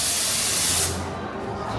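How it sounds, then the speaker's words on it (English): A sharp burst of rushing air, like a pneumatic blast, lasting under a second before dropping off to quieter background hiss. "It's like an air cannon effect."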